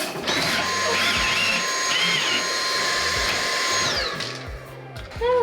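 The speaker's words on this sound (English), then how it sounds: "I want to vacuum it so bad." Vacuum cleaner running in a newly set-up house where sawdust lies about: a loud, steady whining motor drone with low thumping underneath, holding for about four seconds before winding down and cutting off.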